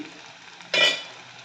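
Onions sauté in a pan over low heat for mutton chukka, with a single close stirring scrape and a soft sizzle that briefly rises, then settles back to a quiet background.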